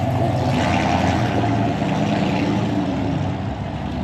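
Truck engine running steadily after repair at a slightly high idle, a continuous close rumble with no talk over it.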